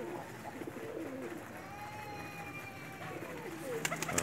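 A pair of Kasuri pigeons coos in soft, repeated phrases close by, with faint background murmur and a brief rustle near the end.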